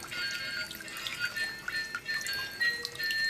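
A small dolphin bath toy fountain sprays water into a sink, giving a steady splashing trickle with bright dripping and burbling. Faint electronic tones sound along with the water throughout, and no one speaks.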